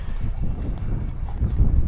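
Racing horses at a racetrack, hooves thudding in a loose, quick rhythm close by, with soft wind noise around them and no talking.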